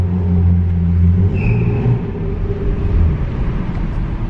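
Porsche engine revving with a deep, steady rumble and harmonic drone that shifts pitch partway through, loud and close, with no speech over it.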